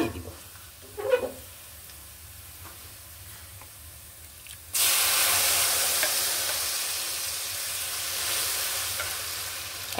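Lentils (dal) tipped into a pan of fried onions burst into a loud, steady sizzle after a quiet start with a small clink, the hissing frying continuing strongly to the end.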